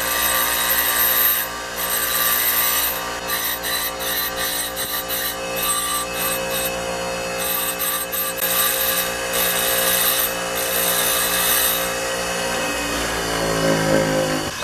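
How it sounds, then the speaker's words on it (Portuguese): Tungsten electrode for a TIG torch being sharpened on a grinding stone, a continuous loud grinding rasp with a steady tonal whine that holds for the whole stretch, no talking. "Ó, eu vou amolar aqui nessa pedra aqui, ó. Ó. Eu aponto o tungstênio assim"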